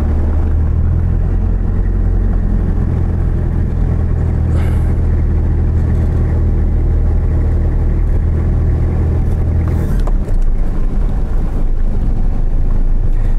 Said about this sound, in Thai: เดี๋ยวเราขับรถรอบปราสาทนิดนึงก่อน